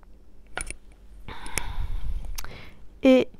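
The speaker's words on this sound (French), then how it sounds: "Alors je prends une gorgée" A single sip from a drink, drawn in as a soft, airy slurp of about a second, close and quiet, followed by a brief breathy vocal sound.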